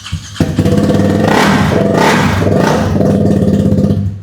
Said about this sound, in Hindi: अपाचे की 2022 की BS6 वर्जन है जिसके अंदर एक्रा का आपका कस्टम एग्जॉस्ट लगा हुआ है।